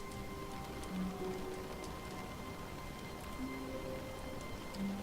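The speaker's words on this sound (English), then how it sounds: "There's rain." Rain falls steadily in The Stanley Parable, a dense, even patter with scattered louder drops and faint tonal hums beneath, continuous throughout.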